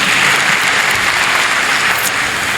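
Sustained applause from a large audience at a graduation celebration for a health sciences faculty class, held in an auditorium; a dense, steady wash of clapping continues throughout at an even loudness.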